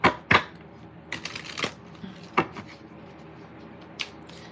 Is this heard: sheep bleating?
no